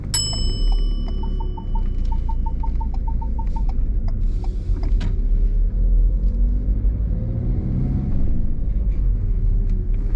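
Car pulling away during a driving test near Hendon, a low engine rumble building steadily as the vehicle moves off, with a rapid ticking indicator signal clicking clearly over it at the start.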